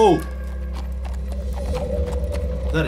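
Hollow hoof clip-clops from a zombie horse in The Walking Dead: Final Season game, over steady low droning ambience, with a brief bright sting at the start.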